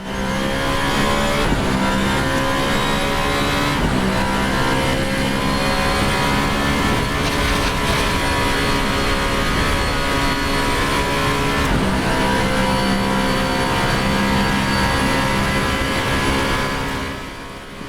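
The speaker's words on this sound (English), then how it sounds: "Those engine sounds from the onboard cameras are absolutely brilliant." VRC Arden V24 hypercar engine in Assetto Corsa, a loud sustained high-pitched roar heard onboard, rising and falling through repeated gear changes for the whole stretch before easing off at the end.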